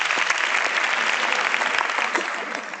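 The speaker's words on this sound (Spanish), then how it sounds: "Muy bien, un aplauso así." Audience at an internationalisation and wellbeing session applauding, a dense, steady burst of clapping that holds for a few seconds and then begins to taper.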